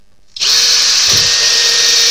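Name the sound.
power drill drilling with a drill bit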